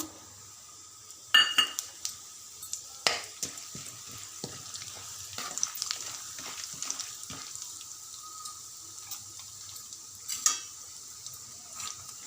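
Cumin, mustard seeds, urad dal and chana dal fry and get stirred in a large kadai, giving soft crackles, scrapes and a few sharper clinks over a quiet, steady kitchen hiss.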